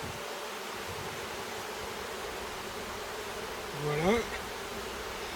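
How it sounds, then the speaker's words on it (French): Honey bees buzz around an opened hive during a spring inspection, a dense, steady drone close by, with a brief word spoken near the end. "les abeilles qui sont là"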